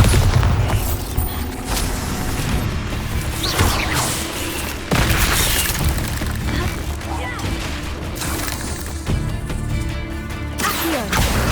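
Bombarda blasting spell in Hogwarts Legacy, heard as loud booming explosions and crashes amid a busy battle with music and other spell effects, repeated several times through the clip.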